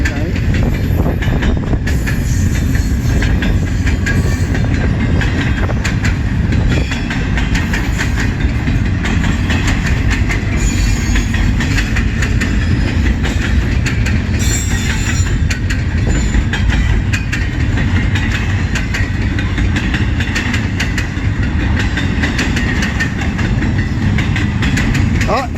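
A CN freight train passes close by at a meet in Emmett, Michigan, with a loud steady rumble and continuous clickety-clack of railcars for the whole stretch, a few faint voices in the background.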